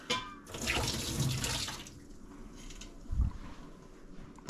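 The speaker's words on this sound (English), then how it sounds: "I'm just gonna dump the water." Water is dumped out of an Instant Pot, splashing and gushing in a steady pour for a couple of seconds, then trickling and dripping, ending with a soft clunk.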